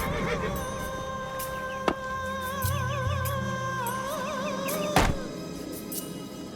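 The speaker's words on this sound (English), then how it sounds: "There were horses back here." Horses neigh and whinny from somewhere behind the scene, wavering calls layered over a low rumbling background, with two heavy thunk-like knocks breaking through at separate moments.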